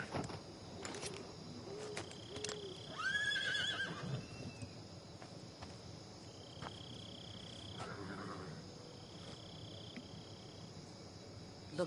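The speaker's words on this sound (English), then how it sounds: "Why is there a horse here?" In Metal Gear Solid 3, a horse gives a faint, mid-distance whinny partway through, surrounded by soft hoof clops and a constant hum of crickets and night insects.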